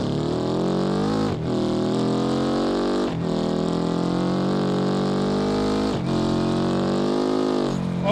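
A car engine in the BeamNG driving game revs loud and steady, pitch climbing through gears in three long sweeps with brief drops between shifts, the simulated motor droning harshly throughout with no talking.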